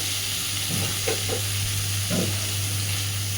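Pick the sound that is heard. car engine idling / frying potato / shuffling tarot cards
frying potato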